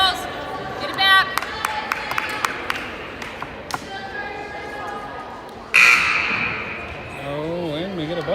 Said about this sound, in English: Oh, and we get a buzzer.